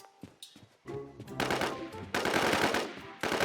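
Rapid automatic gunfire in the online zombie survival shooter Infestation The NewZ, loud bursts starting and stopping in close succession with a short pause before longer sustained volleys.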